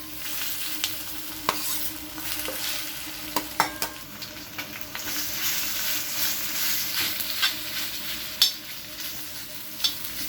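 Sliced ladyfinger (okra) stir-fried in oil in a pan for a crispy poriyal, with a continuous soft sizzle and irregular scraping and tapping of the spoon against the pan; no talking.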